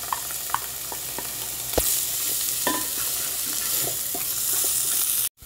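Chopped tomato for a festive rice dish is stirred in a pan over steady sizzling, with scattered spoon scrapes and knocks, one louder clatter near the middle, close and without talk.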